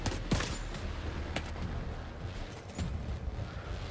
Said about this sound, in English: They have a minigun set up there.